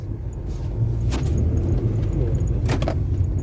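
Inside a 2006 Toyota Vios Type G driving over a damaged road, with a steady low cabin rumble and a few brief rattles and jangles as the car hits bumps.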